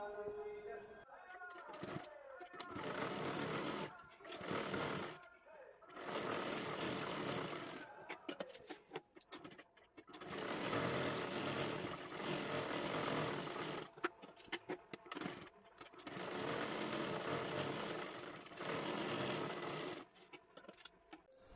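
A sewing machine stitching fabric sleeves runs in several bursts of fast, whirring rattle, each a few seconds long, separated by short pauses, close and steady.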